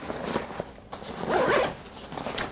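Zipper on the side pocket of a Kifaru Hoodlum day pack being pulled open in one continuous, close rasp, with fabric rustling around it.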